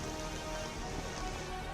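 Heavy continuous rain during flooding near the Tawi river in Jammu, a steady, dense, even roar of falling water with no breaks.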